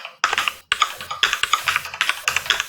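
Computer keyboard typing in quick bursts of close, crisp key clicks, with brief pauses between the runs and no voice.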